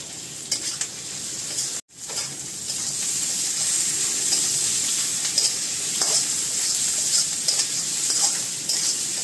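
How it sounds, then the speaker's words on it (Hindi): Carrots and mixed vegetables stir-fried in a hot pan for veg chowmein, a steady close sizzle with scraping stirs throughout and one brief cut near the start. "थोड़ा सा वेजेस को आप ऐसे इसी तरीके से थोड़ा पका लीजिए, चलाते रहिए कंटिन्यू उसको।"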